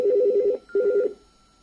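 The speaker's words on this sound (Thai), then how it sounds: "ตอนนี้เสียง เรียกเข้าซึ่งเป็นเสียงภายในก็จะ ดังเป็นเสียงที่สิบห้านะครับ" Two quick warbling electronic rings from an LG LDP-9208D digital desk telephone, internal-line ringtone, the second shorter, heard up close with a faint hum behind.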